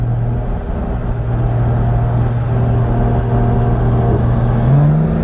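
Single-turbo BMW M4 on E85 and meth and a Toyota Supra with a PT6870 turbo on E85 pull hard in a 60 roll race, a loud steady engine drone with a rising tone near the end, no talking.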